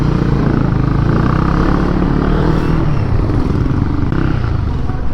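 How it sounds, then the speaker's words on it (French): Loud, continuous engine roar of motorcycles, including a BMW S1000 GS, on a busy street, close and steady throughout with a shifting rumble of traffic. "Il y a quelques belles motos."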